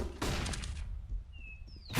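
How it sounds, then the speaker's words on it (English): A flashbang grenade is thrown in Counter-Strike, giving a sharp burst followed by a short rattling clatter, then a thin high whine, all brief and moderately loud. "Throwing flashbang."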